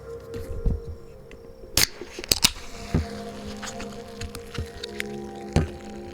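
A can of Apple Crisp flavored sparkling water cracks open with a sharp pop and brief fizzy hiss, followed by a few faint clicks and rustles nearby.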